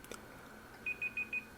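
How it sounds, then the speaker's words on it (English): A timer beeps four times in quick, evenly spaced succession over a steady low background hum, with no talking. "It's going to beep in any second now, and I'm going to have to turn it off."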